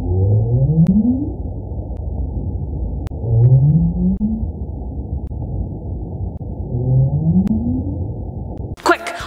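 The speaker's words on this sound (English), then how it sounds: "This sound is coming from the North Atlantic right whale" North Atlantic right whale calls picked up underwater by a hydrophone: three rising, upsweeping moans spaced a few seconds apart over a steady low rumble of ocean noise.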